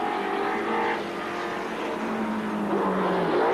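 Racing cars roar past on the track at Sandown in 1978, with Fangio and Brabham driving. Loud, continuous engine drone rises and falls in pitch as the cars pass and the next ones approach.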